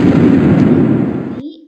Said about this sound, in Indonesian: ketika bersentuhan dengan ambulan, dia akan meledak